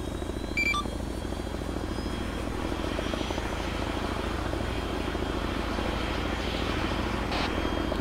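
Military helicopter engines spooling up in a video game military simulation, a steady loud rotor and turbine drone running throughout with a faint higher whine above it.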